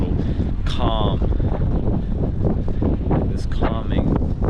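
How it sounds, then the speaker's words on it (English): Strong wind gusts roar across the microphone during a windstorm in the Ohio Valley, a loud, constant buffeting rumble. A person speaks over it twice. "you get like a big wind gust and it ramps everything back up again"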